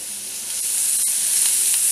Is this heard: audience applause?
no